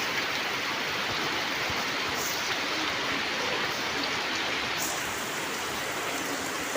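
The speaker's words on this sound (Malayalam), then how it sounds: "നല്ല മഴ എന്ന് വെച്ചാൽ നല്ല മഴ." Heavy rain pours steadily onto a road, a dense, even hiss of water that fills the whole stretch without letting up and stays fairly close.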